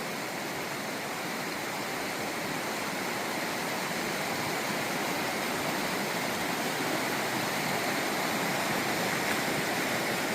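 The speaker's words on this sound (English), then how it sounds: "So I'm enjoying the sound of the river" A river flows steadily through a forested mountain valley, its broadband rushing close and continuous for the whole stretch, with no voices over it.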